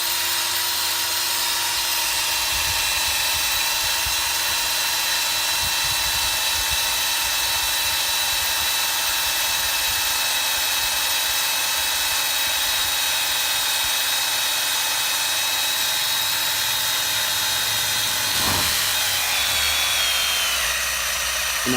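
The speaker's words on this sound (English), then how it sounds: "you can use your DeWalt, it'll actually spin the wheel" A DeWalt cordless drill whines steadily as it spins a motorcycle wheel during polishing, a constant high-pitched motor tone with a drifting pitch, running loud and unbroken throughout.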